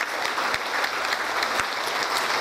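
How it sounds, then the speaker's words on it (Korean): Warm applause from an audience at a Korean community meeting in Atlanta, dense steady clapping throughout with a few sharper individual claps standing out. "여러분들 다시 한번 뜨거운 박수 부탁드리겠습니다."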